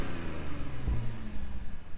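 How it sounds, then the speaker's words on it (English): An Audi SQ5 fitted with an 034 intake and an X-pipe exhaust revs in a brief, deep, steady engine drone, close and fairly loud, with a low burst around the middle. "and now it sounds like this."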